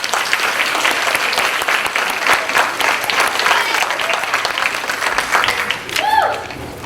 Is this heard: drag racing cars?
no